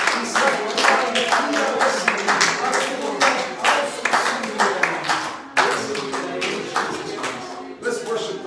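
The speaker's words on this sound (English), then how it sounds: "Would you clap your hands to the Lord?" Church congregation clapping hands together in worship, a dense, steady rhythmic patter of many hands, loud and close throughout, with faint voices beneath.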